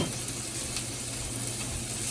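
Sliced peppers sizzle in a hot pan with an even, dense crackle, and soft rustles come as they are tossed around. The sound is close and there is no talking.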